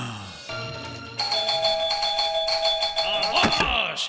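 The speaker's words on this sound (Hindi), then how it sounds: "मेरे दरवाजे की घंटी किसने बजाई?" A doorbell rings loudly and close with a sustained electronic chime tone, followed near the end by a thud, and with no talk over it.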